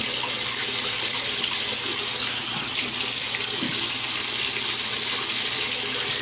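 A bathroom tap runs continuously before a shave with eucalyptus shave cream, a loud, close, steady hiss of flowing water with small splashes as the face is wetted.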